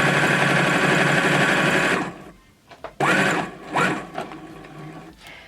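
A sewing machine runs steadily, stitching thick layered fabric squares for reusable makeup wipes, then stops and starts again in a few short bursts of stitching.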